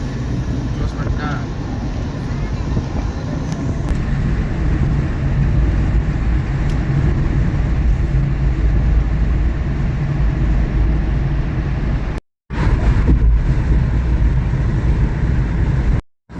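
Steady, dense road traffic in Dubai, a continuous broadband rumble of many vehicles, heard close and loud for the whole stretch with two brief dropouts near the end.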